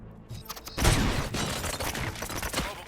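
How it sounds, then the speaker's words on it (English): Gunfire in the RoboCop: Rogue City video game, a dense burst of rapid, loud shots erupting after a quiet moment and continuing as a clattering volley. "Gunshots? What's going on?"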